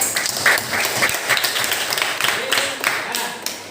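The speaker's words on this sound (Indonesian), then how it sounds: "tepuk tangan untuk kelompok 4" Pupils in a classroom give applause for a student group, quick uneven clapping from a modest number of hands at close range, with voices talking over it throughout.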